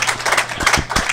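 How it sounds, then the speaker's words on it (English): A brief burst of clapping from the audience at a live radio show, a few close, uneven hand claps lasting about a second. "what the hell are they clapping for?"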